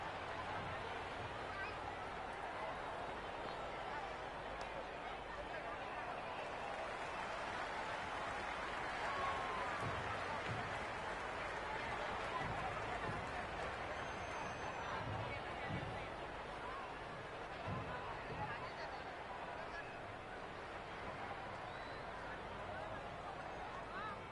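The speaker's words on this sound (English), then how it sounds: "Will you listen to that crowd? They are loving this." Crowd roar at a T20 cricket match between India and South Africa in Ahmedabad, from the video game Cricket 26, a steady dense hubbub of cheering and chatter with faint bursts of applause throughout.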